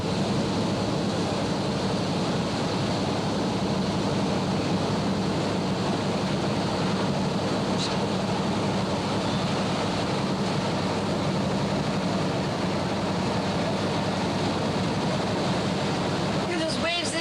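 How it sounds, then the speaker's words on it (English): Surf from Hurricane Iwa pounding the beach in November 1982, a steady broadband roar of crashing waves heard from inside a beach house, continuous and moderately loud with wind mixed in. "Hear those waves"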